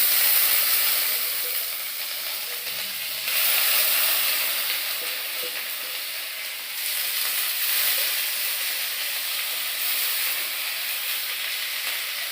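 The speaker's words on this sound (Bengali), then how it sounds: "পেঁয়াজটা ভাজা হয়ে গেছে, এই যে ডালটা দিয়ে দিই" Lentils fry with onions in a pan in a steady, hissing sizzle that swells and eases in long waves, close and continuous with no talk over it.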